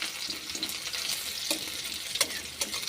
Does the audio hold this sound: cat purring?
no